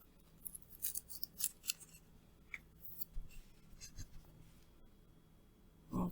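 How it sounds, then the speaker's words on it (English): Scissors snip through a grilled cheese sandwich to cut it in half, a series of faint crisp cuts and crunches close by, scattered irregularly over several seconds. "I'm going to cut this in half"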